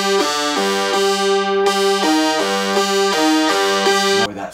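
Synth counter melody from a song's bridge, playing bright, buzzy sustained notes in a repeating stepwise line over a steady low tone, loud and up front with no voices.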